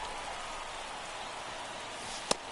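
Steady broadband rain hiss pours over a ballpark in the video game MLB The Show 24, constant and even throughout with no talk, broken once near the end by a single sharp click.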